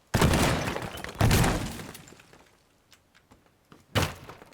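Hollow knocks on a wooden crate in the game Teardown, two heavy broadband impacts early with trailing rattles and small clicks, then a third sharp hit near the end, close and loud with no talk.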